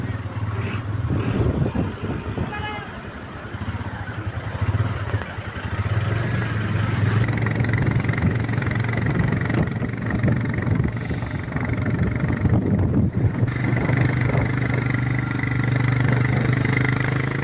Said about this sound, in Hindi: तो बाइक पर सवार आप लाहौल स्पीति से विधायक रवि ठाकुर को देख रहे हैं